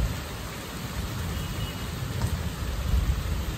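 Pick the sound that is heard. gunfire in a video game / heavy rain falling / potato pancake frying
heavy rain falling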